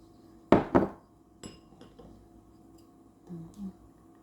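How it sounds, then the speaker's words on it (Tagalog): A spoon stirs fresh milk and cornstarch in a glass, with two bright, ringing clinks close up at the start, then a few lighter taps and a soft scrape. "Listen lang po natin, halo ko na"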